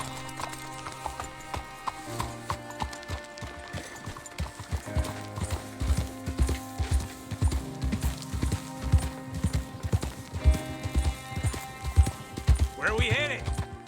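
Horse hooves clip-clopping in a steady rhythmic gait while riding in Red Dead Redemption 2, close and distinct, with game music and characters talking over it and a brief whinny near the end.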